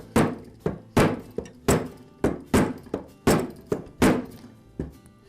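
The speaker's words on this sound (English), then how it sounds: "I'll give it a couple of taps with the rubber shop mallet." A rubber shop mallet strikes the flywheel of an Echo string trimmer again and again, producing about a dozen dull, close thunks in an uneven rhythm, each followed by a short ring-down.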